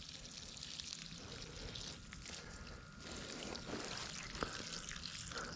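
Water sprays steadily onto tomato plants in a dry garden bed, a soft continuous hiss with brief dips as the stream shifts, no talking over it.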